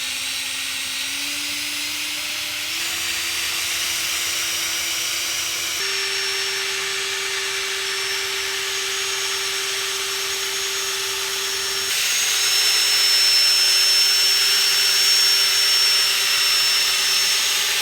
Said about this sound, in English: We have the big ball thing at the end of the drill, the cordless drill, and we put a nickel size of this polisher.